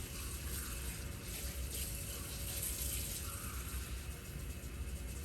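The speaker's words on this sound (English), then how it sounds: "I'm going to rinse this cup off and fill it with clean water" Tap water runs into a denture cup being rinsed and filled at a sink, a quiet steady splashing stream that continues for several seconds with no talking.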